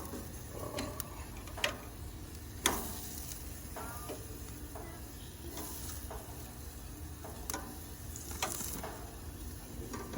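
Zucchini and peppers sizzle steadily on a very hot grill, a dense continuous crackle broken by sharp ticks and pops as pieces are placed and moved, close and alone with no talk.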